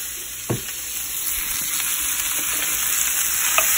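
Corn frying in melted butter gives a steady, loud, close sizzle and crackle in a pan. The texture stays constant with a few small pops and stirring scrapes, and no one talks.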